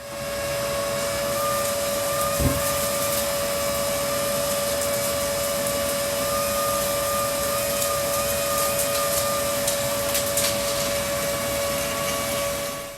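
A cyclone dust extractor vacuum runs steadily with a fixed whine and broad rushing airflow, its nozzle probing into nooks and crannies; one brief bump lands early on, and the hum stays loud and continuous throughout.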